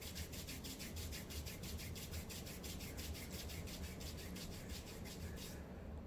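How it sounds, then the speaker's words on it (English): A palm rubbing steadily against the side of the face during a facial therapy routine, a close, continuous swishing friction with a regular back-and-forth rhythm repeating many times before stopping. "take the hand like this and rub on the side of the face"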